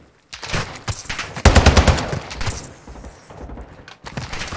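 Video game gunfire in Call of Duty Warzone DMZ comes in rapid automatic bursts, loud and close, with a sharp volley near the middle and trailing shots, separated by short pauses.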